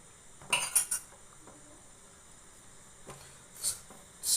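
A utensil mixing a glycerin-added shea butter coffee soap mixture in a pot, giving a few faint clinks and scrapes in short clusters over near silence.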